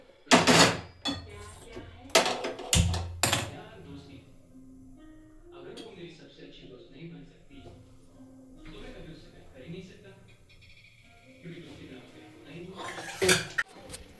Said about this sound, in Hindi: तब तक मैं इसके जो बर्तन है उनको साफ कर लेती हूँ।